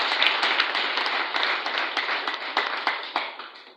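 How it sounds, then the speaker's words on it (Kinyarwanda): A congregation claps hands at a church sermon, crisp, fairly quick claps that fade slightly toward the end, heard at a moderate distance with no talking over them. "Tubanze tumukomera amashyi menshi cyane"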